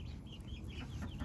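Pet chickens cluck softly nearby: short, quiet, chirpy clucks repeat over a low, steady background rumble.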